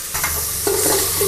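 Curry leaves drop into hot oil for a chicken huli, bursting into a close, crackling sizzle that keeps hissing steadily alongside stirring, with no voices.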